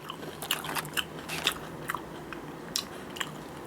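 Crisp, dry crunching from close up of a hollow fried-chicken-flavoured snack shaped like a drumstick, several sharp bites and chews spaced unevenly over a quiet background.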